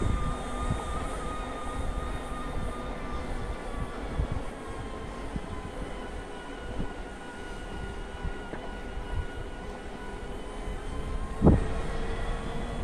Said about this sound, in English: the Bafang motor has a slightly higher pitched whine to it